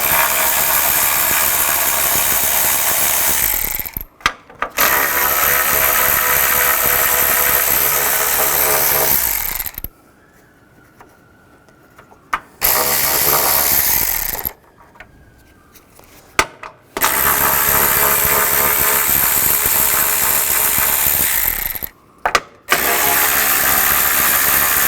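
A power tool, likely an impact wrench or ratchet with a 10mm socket, runs in long, loud, continuous bursts while removing bolts on a 2010-2017 Chevrolet Equinox radiator fan assembly, separated by brief quiet pauses.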